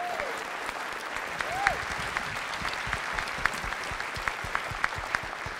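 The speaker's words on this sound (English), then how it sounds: "give applause for them" An audience applauds at a live event, a soft, steady bed of clapping from a moderately distant crowd, with a few sharper nearby claps standing out and a voice briefly rising over it.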